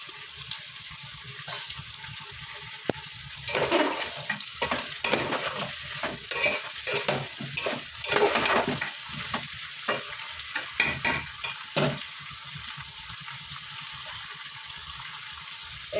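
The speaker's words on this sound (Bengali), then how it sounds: "ঝাল ফুটে গেছে কালো জিরে দিয়ে।" Pabda fish curry with black cumin and mustard oil simmers in a pan, giving quiet bursts of sizzling and stirring that come and go between calmer stretches, with no talk.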